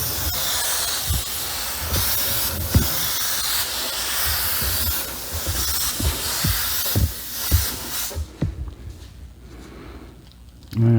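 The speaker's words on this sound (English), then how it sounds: "So with the white, I'm just going to come in and I'm going to spray some" An airbrush sprays white paint in diagonal strokes for a carbon fiber effect. It makes a steady, close airy hiss for about eight seconds with small bumps and knocks, then drops away to near quiet.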